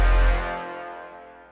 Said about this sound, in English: I then added these random brass stabs by Ujam Symphonic Elements, and I also layered in a sub by Sublab.